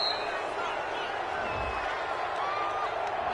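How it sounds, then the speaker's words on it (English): A football video game stadium crowd reacts to a penalty call with a steady, distant roar and murmur of disapproval, while a commentator talks over it. "this crowd does not like that call"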